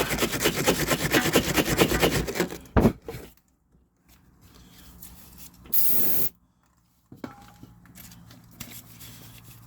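Brake cleaner sprayed onto a Range Rover rear brake wear sensor: loud, rough scrubbing and hissing at first, then a short, steady aerosol spray burst, followed by quieter clicks and handling noises.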